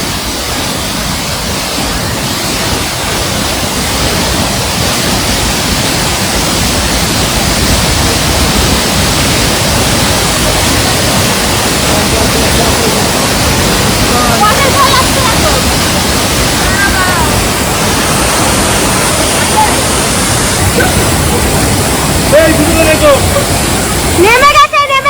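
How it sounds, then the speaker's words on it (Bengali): A waterfall in Pelling roars as a loud, steady broadband rush of falling water, unbroken and close, with no voices over it. "এই হচ্ছে এবার ওয়াটারফলটা, এখান থেকে জলটা পাস হয়ে যাচ্ছে"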